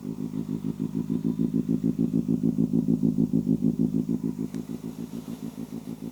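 A 250cc motorcycle engine idles steadily nearby, a rapid, even chugging pulse that holds a constant rhythm throughout with no voices.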